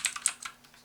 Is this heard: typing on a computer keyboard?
yes